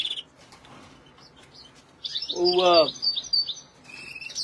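Hybrid goldfinch and canary birds, including a green isabel mutation, give a short burst of bright chirps and twittering midway, over a quiet room background.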